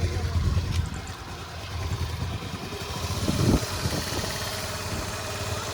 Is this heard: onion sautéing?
no